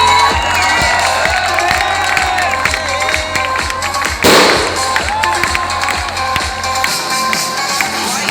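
A crowd at a Samsung employee achievement celebration cheers and applauds loudly and steadily, with shouts and a thumping beat running underneath, swelling briefly midway before carrying on to the end.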